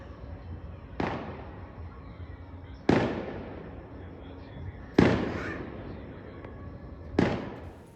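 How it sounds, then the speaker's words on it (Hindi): Firecrackers burst outdoors during a celebration after an India–Pakistan cricket win: four separate loud cracks a couple of seconds apart, each with a rolling echo, over a low steady background. "बाहर इतने सारे पटाखे फोड़े जा रहे हैं मानो आज दिवाली हो"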